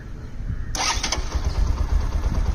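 A Bajaj Platina 110 motorcycle is self-started. A quiet ignition hum gives way to a brief electric starter whir, and then the engine catches and settles into a low, steady idle nearby.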